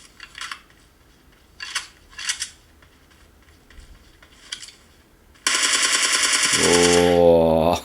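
A gun fires in a mobile video game played on a vivo X30 5G phone, a few short bursts standing out against near silence, followed by a louder, continuous stretch of game sound toward the end.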